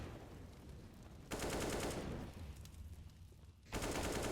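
Gunfire in the team shooter CS:GO during a collegiate playoff match, with bursts of rapid automatic fire broken by short lulls, moderately loud and without any talking.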